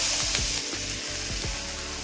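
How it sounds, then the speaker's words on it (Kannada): Chopped basale greens tip into hot oil tempered with cumin for a sambar, giving a steady, loud sizzle and frying hiss that runs the whole time, with soft stirring scrapes now and then. "ಕಟ್ ಮಾಡಿ ಇಟ್ಕೊಂಡಿರೋ ಬಸವ ಸೊಪ್ಪು ಹಾಕ್ತೀನಿ"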